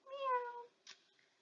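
A single clear cat meow, rising then falling and fairly close, followed by a brief soft rustle and quiet.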